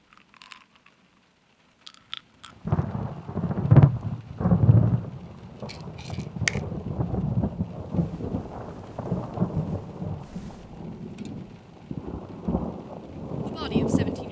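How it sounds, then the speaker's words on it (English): A thunderstorm in a short film opens after near silence with loud thunder cracks and rolling rumbles, then settles into continuous rain with scattered sharp bursts and crackles. "The storm is here."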